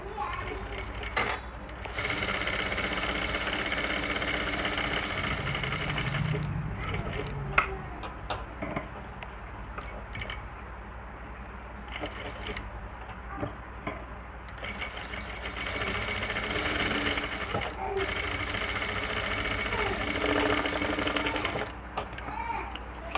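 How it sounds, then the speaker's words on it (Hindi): A sewing machine stitches close to the neckline of a V-neck garment, whirring and clattering steadily at close range in long runs with short pauses between them, with no voice over it. "ये सिलाई लगाने के बाद नेक के बिल्कुल ही पास से सिलाई लगा लेंगे एक।"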